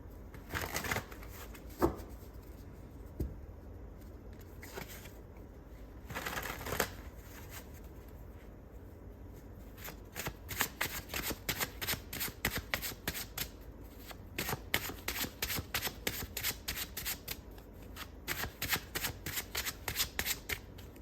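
A deck of tarot cards being shuffled up close, with a few soft handling sounds early on, then a long run of rapid, crisp riffling bursts in quick succession.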